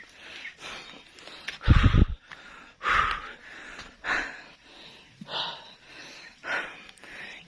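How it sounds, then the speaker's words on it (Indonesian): Someone panting and breathing hard while hiking up a steep slope, with uneven gasping breaths and a couple of louder rustling thumps, near and without speech. "Ini ngos-ngosan."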